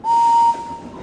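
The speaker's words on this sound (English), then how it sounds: "My whistle sounds like this." A single short steam engine whistle from a Thomas & Friends PC game, one loud, clear, steady tone of about half a second that drops off quickly into a faint hiss.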